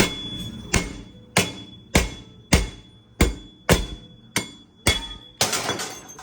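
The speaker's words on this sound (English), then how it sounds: "I'm gonna use my hammer." Hammer blows strike a Toyota C-HR wheel hub assembly, about nine sharp metallic impacts at a steady rhythm with ringing decay, close and loud with no talking.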